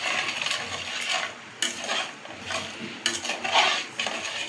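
A spoon stirs chana dal dumpling curry in a cooking pot, scraping and clinking against the metal in uneven strokes with short pauses between them.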